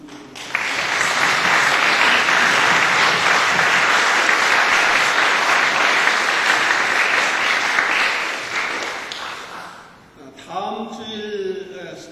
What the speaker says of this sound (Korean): 우리 성가대들에게 격려의 박수 한번 드립니다.